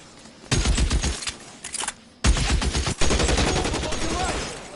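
Loud video game gunfire in bursts of rapid shots, cutting out briefly and then resuming as sustained automatic fire.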